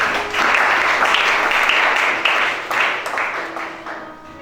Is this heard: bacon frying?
no